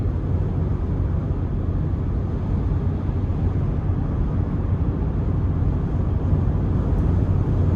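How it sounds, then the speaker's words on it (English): Steady broadband wind rush and road roar fill the cabin of a 2020 Ford F-150 King Ranch with a 3.5 twin-turbo V6 cruising down the road, a constant moderate hum without speech. "even where I can hear the wind, it's not overly loud in here"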